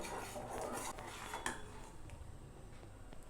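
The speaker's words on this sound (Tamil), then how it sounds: "பக்கத்திலே இருந்து கைவிடாமல் கிளறுங்க, உடனே இறுகிடும்." A spoon stirs thick ragi (finger millet) porridge in a pot, giving faint, continuous scraping and soft clinks against the pot with no talking.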